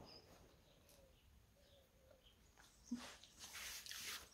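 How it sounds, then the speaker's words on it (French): Birds call faintly outdoors on a sunny terrace, with sparse soft coos and chirps spread across a quiet background, then a brief clatter and rising breezy rustle toward the end. "Vous entendez les oiseaux"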